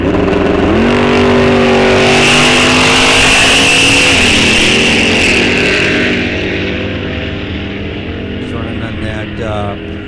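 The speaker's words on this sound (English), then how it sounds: "running that old nostalgic front engine dragster. We got a 95 Neil Parks chassis on there. He's running a 400 motor" A front-engine nostalgia dragster on a 1995 Neil Parks chassis with a 400 engine accelerates down a drag strip, a loud roaring engine note climbing in pitch, then fading into the distance while a voice talks over it.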